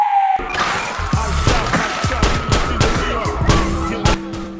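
Rapid gunfire in a police emergency scene, a loud string of sharp shots in close succession along with crashing impacts over a tense background.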